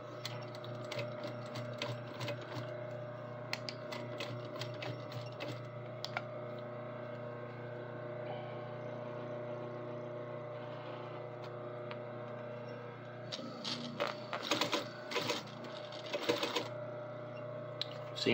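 A sewing machine stitching fabric with a presser foot, a steady mechanical whir and rapid rhythmic clatter that runs continuously, close by, with a brief pause and a louder burst of stitching near the end.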